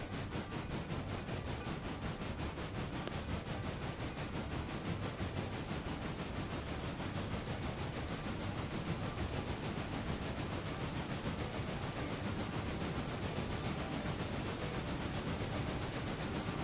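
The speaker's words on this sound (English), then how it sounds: "Be aware the passenger train is steaming towards Whittier." A steam passenger train in the modded railway game Railroader, heading toward Whittier, gives a steady, dense rumble with a constant hissing wash, loud and close throughout, with no breaks or voices over it.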